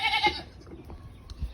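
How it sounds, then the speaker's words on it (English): A goat bleats once, short and fairly close, followed by quiet outdoor rustling. "He's a good goat."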